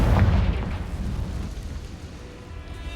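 Confringo blast spell erupts inside an Acromantula cave in the Hogwarts Legacy video game, a heavy explosive boom that opens loud and then trails off into a sustained low rumble.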